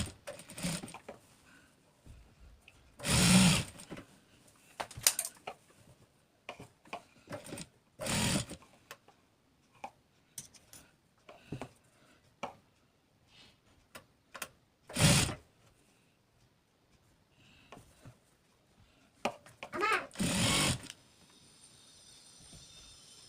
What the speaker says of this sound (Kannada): ಈಗ ಸ್ಟಿಚ್ ಹೀಗೆ ಇಟ್ಕೊಂಬಿಟ್ಟು ನಾನು ಸ್ಟಿಚ್ ಹಾಕ್ಕೊಂಡು ಬರ್ತೀನಿ